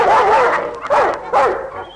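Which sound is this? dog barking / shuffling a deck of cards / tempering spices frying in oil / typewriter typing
dog barking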